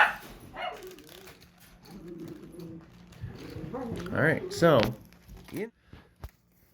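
A dog makes a few short vocal barks and yips at passing dogs, mixed with other household sounds and possible bird cooing, in a moderately loud indoor setting.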